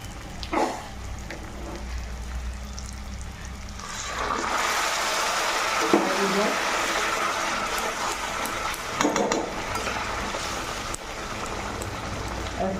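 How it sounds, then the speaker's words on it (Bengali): Hot water is poured into a pot of chicken liver curry with oil-separated spices, a steady hiss and splash of liquid lasting several seconds, followed by soft sizzling and brief clatters. "দেখো এবার গরম জল দিয়ে দেবো।"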